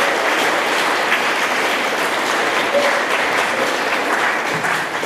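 Steady, full applause from a crowd at a school ceremony for first-year pupils, continuous and loud for the whole stretch with no break.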